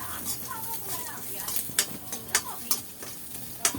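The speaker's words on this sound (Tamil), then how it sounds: "அதை போட்டு நல்லா வதக்கணும்." Masala pori mixture with peanuts and garlic sautéing in a pan, soft sizzling under repeated scraping stirs and sharp clinks of a spoon, while a person talks throughout.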